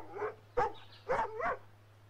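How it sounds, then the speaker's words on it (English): A guard dog in Assassin's Creed Rogue gives three or four close, clear barks in an uneven sequence over a low, steady background hum. "Is that a guard dog? I think that's a guard dog."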